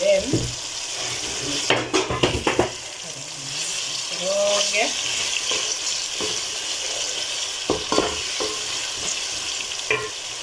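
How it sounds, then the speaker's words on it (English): Grated garlic and ginger paste sizzles in a pan with softened ingredients for a black bean curry, with steady frying hiss and several sharp stirring scrapes and clinks of a utensil against the pan. "I will then add in my grated garlic and ginger paste"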